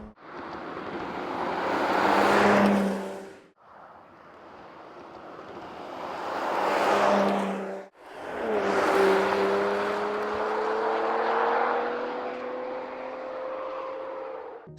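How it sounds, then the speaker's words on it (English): A 2022 Porsche Macan GTS V6 in Sport Plus mode snarls through three separate acceleration bursts, each swelling and fading with wind rush in between. "The exhaust sounds really good as the V6 emits ferocious snorts."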